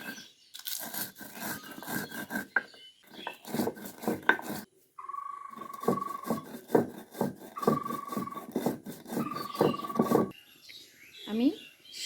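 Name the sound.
grinding roasted spices coarsely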